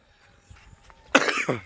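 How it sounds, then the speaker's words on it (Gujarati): A single harsh cough bursts out close by after a quiet moment, followed by a short rough exhale. "જુઓ ઉધરસ પણ આવે છે"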